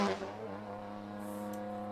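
A race car engine drops from a roar to a steady lower drone as the car slows entering the pits, holding a constant pitch with a brief higher whine near the end.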